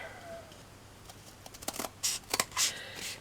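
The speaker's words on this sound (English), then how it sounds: "You just cut the tube the size you want." Scissors snip through a tube for a false book binder, a quiet close-up run of short crisp cuts and rustles that grows busier toward the end, with no one talking.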